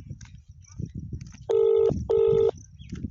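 A phone line plays two steady beeping tone bursts, each lasting about half a second, while a call is on hold. The tones sound over faint, muffled talking in the background.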